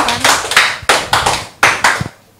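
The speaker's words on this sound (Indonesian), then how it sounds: "Kita berikan aplaus untuk Pak Kansi." A handful of hands clap in short, irregular bursts for Pak Kansi, closing a talk-show segment on tourism in Kaltara. The clapping is close and loud and fades out by the end.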